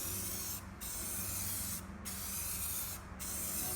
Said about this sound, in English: And I'm letting go of the trigger as I finish, and I'm painting about 2 or 3 inches over the edge so I don't stop.